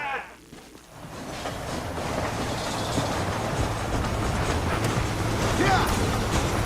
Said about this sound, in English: Hurry! The train is getting away!